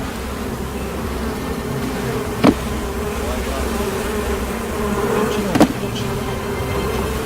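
Honeybees buzz steadily around a working hive, a dense continuous drone close by, broken by two brief sharp knocks or clicks.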